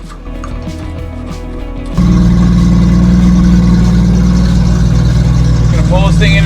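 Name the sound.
1973 Toyota Land Cruiser FJ55 being driven into the bay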